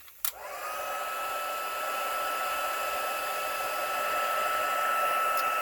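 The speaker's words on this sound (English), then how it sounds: "Now I will heat set this." A heat tool blows steadily and close for several seconds while heat-setting clear embossing powder, starting after a brief click and holding a constant whooshing hum.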